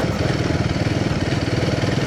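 A Royal Enfield motorcycle engine thumps in a steady, rapid, even beat close up while riding off-road over rough, pothole-filled ground.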